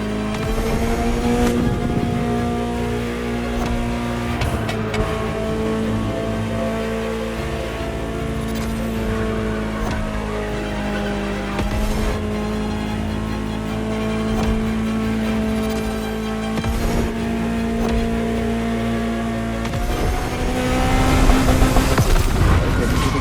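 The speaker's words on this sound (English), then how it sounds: "Just listen to the car you're driving." A Ferrari supercar in the racing game The Crew Motorfest drives along, its engine a sustained tonal roar rising and falling through gear changes, loud and continuous with short dips between shifts.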